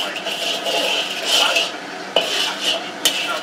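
Black pepper is toasted in a pan, with a utensil stirring and scraping against the metal in continuous clattering strokes and a few sharp knocks, close and fairly loud, with a voice faintly underneath.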